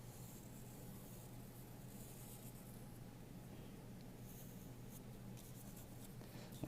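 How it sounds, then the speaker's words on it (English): A pencil traces around a paper cut-out on a sheet, giving a faint, continuous scratchy rubbing that runs unbroken from start to finish with no voices. "I'm going to get it close to the edge of the paper, trace around it."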